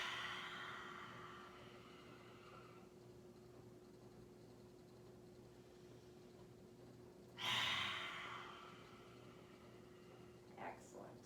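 A single loud, cathartic exhale is pushed out through the mouth in a yoga breathing exercise, preceded by softer breathy sounds and followed by a brief faint puff near the end.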